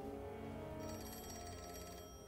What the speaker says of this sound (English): Want to get the phone?